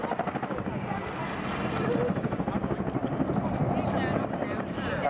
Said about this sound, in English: That's just how quickly you can stop 14 tons of helicopter.